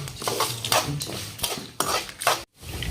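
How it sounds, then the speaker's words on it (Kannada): Spices with turmeric are stirred and fried in a pan, heard as close scraping strokes and light metallic clatter in uneven bursts, with a short silent gap before the stirring resumes. "ಅದನ್ನು ಪೂರ್ತಿ ಮಿಕ್ಸ್ ಮಾಡ್ಕೊಂತ ಫ್ರೈ ಮಾಡ್ಕೊಳ್ಳೋಣ"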